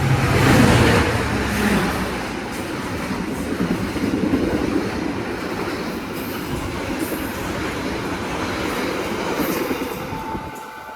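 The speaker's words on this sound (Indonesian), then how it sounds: "Lumayan ngebut di sini teman-teman, tapi nggak sampai full speed sepertinya" The Argo Mendoan passenger train, running from Cilacap, overtakes on an Indonesian line near Jatibarang at fairly high speed, heard as a loud, steady rushing rumble with rhythmic wheel clatter that eases slightly toward the end, no talk.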